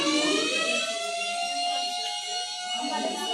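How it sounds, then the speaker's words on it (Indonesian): An ambulance siren rises and falls in a loud, continuous wail of stacked tones that holds steady for a few seconds. "Suara ambulan."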